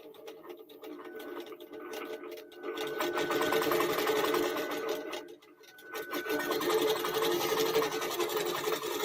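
Close, steady buzzing of a QBOT V3 Pro quilting machine stitching a quilt, a continuous rapid needle rattle that dips once briefly before carrying on at full strength.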